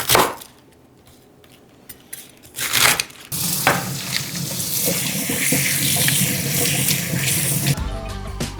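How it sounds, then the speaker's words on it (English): Bok choy is washed under a running kitchen tap, a steady close spray of water splashing and rustling against the leaves for several seconds after a few brief knocks and clatters at the sink. "I'm also gonna just wash some bok choy."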